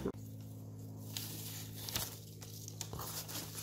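A wrapped birthday present is torn open in a few faint, short rips and crinkles, heard over a low, steady background hum.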